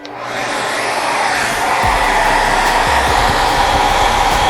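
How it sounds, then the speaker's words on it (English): A hair dryer heating the bottom of an iPhone 6s during a screen repair starts up and runs with a loud, steady blowing roar close by, with a few low knocks underneath. "Make sure you don't have your hair dryer anywhere near stuff that can fly off your table."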